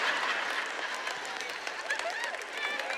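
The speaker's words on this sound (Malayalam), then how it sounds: "എനിക്ക് കയ്യടി കിട്ടുമെന്നറിയാമായിരുന്നു" Audience applause during a church sermon on procrastination, a dense, steady wash of many hands clapping for about three seconds, fairly even in loudness with scattered brighter claps and some crowd noise mixed in.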